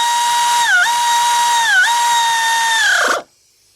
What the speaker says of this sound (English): Tightening these up by the air ratchet, I know when to stop.